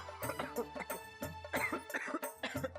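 A person coughs repeatedly in a series of short, harsh bursts, close and clear, with brief pauses between fits.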